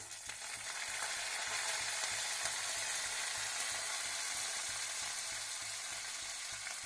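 Vadagam fries in hot oil for a village-style karapodi fish curry, giving a dense steady sizzle and crackle that stays close and even throughout.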